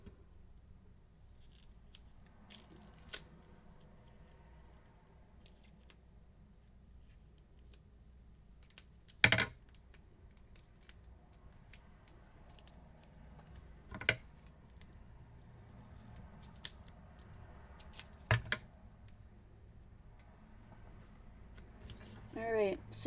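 Scissors snip paper for a unicorn-and-rainbow shaker card at a craft table, a few sharp isolated cuts spaced across a quiet background as someone talks now and then.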